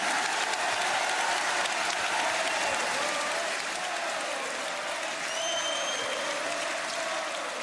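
A crowd at a political rally in Cannes applauds at length. The clapping is dense, even and continuous, heard at some distance with no speech over it.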